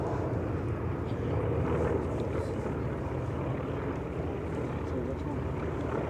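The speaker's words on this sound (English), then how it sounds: "Off to your left, you'll see the aircraft braking for the other runway." Warbird aircraft at the EAA AirVenture airshow rumble continuously at a moderate distance, a steady engine drone that stays under an announcer's running commentary.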